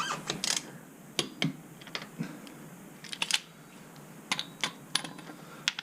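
Clicking and ratcheting of a torque wrench tightening the axle nut on a 2008 Smart ForTwo, a scattered series of sharp close metallic clicks with quiet gaps between them and no talking.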